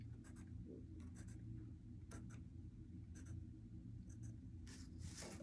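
Light pencil strokes scratch along a ruler on paper, several short, faint marks in an even rhythm in a quiet room.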